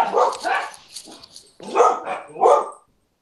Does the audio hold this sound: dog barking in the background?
yes